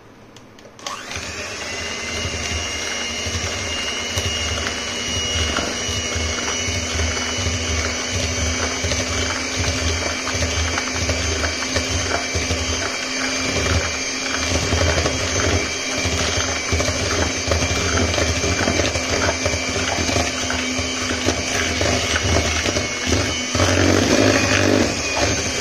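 An electric mixer whirs continuously while beating cupcake batter tinted with a few drops of food colouring, a steady motor drone that grows slightly louder toward the end.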